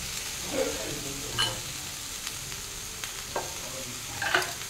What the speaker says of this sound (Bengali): আর একবার ভেজে নিই। এবার আমি বেগুনটাও অ্যাড করে দেবো।